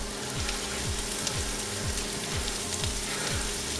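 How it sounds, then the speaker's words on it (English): Onions sizzle and crackle steadily in a hot pan, a dense, even frying hiss with small pops that runs throughout with no one talking. "it's called crystallizing your onions or caramelizing your onions"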